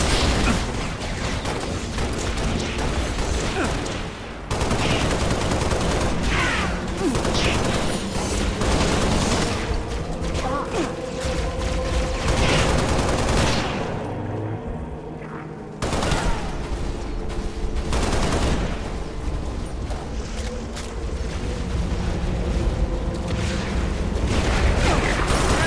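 Dense, continuous gunfire and explosions fill a Halo Reach co-op mission, a loud, constant wall of automatic weapon fire with a brief lull partway through.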